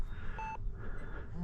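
A radio-control transmitter's timer gives a short electronic beep, a single steady tone at low level over background hiss and wind.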